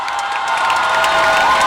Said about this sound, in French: Et à vous tous, applaudissez-vous.